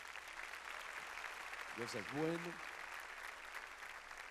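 Congregation in a church clapping: a steady, faint wash of applause continues throughout while someone speaks briefly in the middle.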